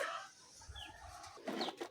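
Layer chickens cluck in short, scattered calls, fairly faint against a steady background hiss, with a slightly louder burst of clucking near the end.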